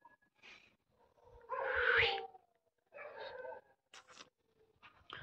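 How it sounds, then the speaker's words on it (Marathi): Dogs bark around a hillside village near the Jotiba temple on a Kojagiri full-moon night, a few separate barks and yelps at varying distances, some nearer and louder, others faint, with quiet gaps between. "कुत्रे भुकते चारी बाजूला एकाच आवाज आला की दुसऱ्याच आवाज येतोय"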